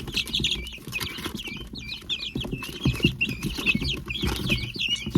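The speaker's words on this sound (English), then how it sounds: "Here comes the first guinea." Guinea fowl chicks being caught and moved out of a brooder chirp in a steady stream of high, busy peeps, with scuffling and handling noises underneath throughout.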